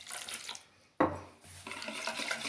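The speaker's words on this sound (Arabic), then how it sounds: "بعد كده هنزل على البيضه بكوبايه ميه تكون دافيه اهي" Warm water poured from a glass onto egg in a bowl while mixing vegetable pastry dough in a home kitchen, a sudden splashing pour after a quiet moment, then softer stirring and rubbing noises.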